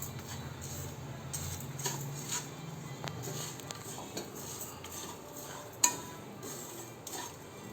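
A utensil scrapes and taps faintly around a hot pan as ajwain seeds are stirred while dry roasting, quiet irregular clinks and one sharper knock near the end.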